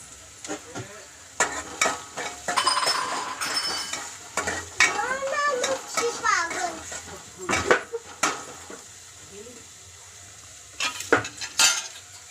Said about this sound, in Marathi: कांदा थोडा ब्राऊन होऊन द्यायचा, तोपर्यंत आपण मिक्स करायचं थोडं थोडं मध्ये मध्ये